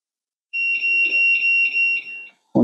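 A Solity GSP-2000BK safe beeps when its door is not fully closed, giving a clear high electronic tone pulsing about six times close up, followed by a brief thud.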